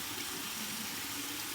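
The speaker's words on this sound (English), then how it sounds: "we're going to do our cold water rinse now" Cold water pouring steadily from a shower for a final rinse, a continuous full hiss of running water with no talking.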